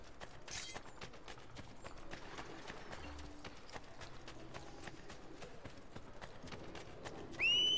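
In the video game Assassin's Creed Brotherhood, horse hooves clip-clop in quick galloping rhythm for several seconds, with mechanical clicks and a short whinny-like burst, ending in a louder swell.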